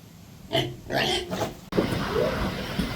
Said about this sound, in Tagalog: Ating alagang baboy.